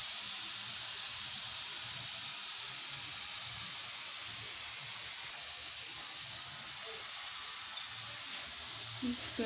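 Eggs sizzling in hot oil in a kadhai, a steady close bright hiss that continues unbroken throughout, with faint muffled sounds beneath.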